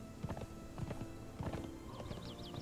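Horse hooves clip-clop in the video game Conan Exiles, several uneven steps close by over a low music bed, with a brief whinny-like sound near the end.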